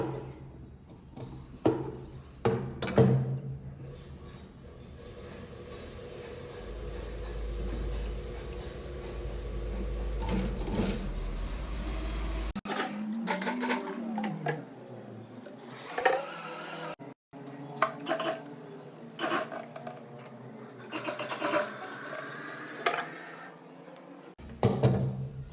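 Sewing machine stitching a neck-to-waist dart blouse, its rapid mechanical whirring running in bursts with pauses between runs, and a speaking voice heard intermittently.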